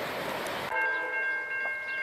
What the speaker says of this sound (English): Another train. Northbound freight train.